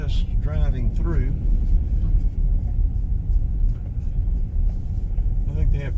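Steady low rumble of a car driving along Memorial Drive through Stone Mountain on Christmas Day, with someone talking over it throughout.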